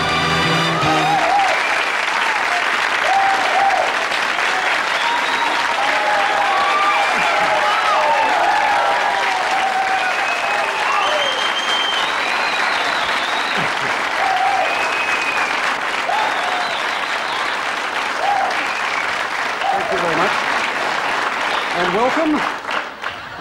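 Studio audience applause greeting the star of a 1980s television show, a dense sustained wash of clapping with cheers and whoops rising through it, loud and steady for over twenty seconds before tapering slightly at the end.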